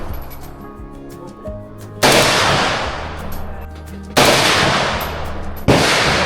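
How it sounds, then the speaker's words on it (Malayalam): AK-47 rifle fired at a Cu Chi shooting range in Vietnam: three loud, sharp shots spaced about two seconds apart, each with a long echoing decay, over quieter background noise. "അങ്ങനെ ഞാനും ഒരു AK-47 തോക്കുമായി വെടിവെക്കാൻ പോവുകയാണ്."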